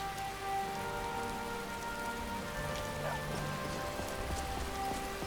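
Steady rain falling in a video-game world, a continuous even patter on surfaces with faint ambient tones beneath and no speech.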